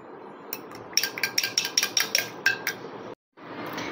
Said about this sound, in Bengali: এখন সব উপকরণ আমি খুব ভালোভাবে মেশাবো।